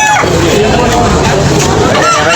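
A white fighting cock offered for sale, over a year old, crows and clucks close by through steady, dense background noise, with people talking at points.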